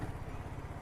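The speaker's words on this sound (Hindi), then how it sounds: "लो स्पीड में ना एक अजीब सी वियर्ड सी वाइंडी नॉइज़ आती है इंजन से" A BSA Goldstar 650 motorcycle engine turning over at low speed, giving a steady, close, low throbbing drone with an odd whining undertone, continuous and alone.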